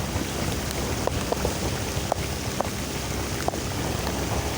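Heavy rain pours onto a flooding road in a steady, dense hiss, with occasional sharper drops or knocks standing out against the downpour.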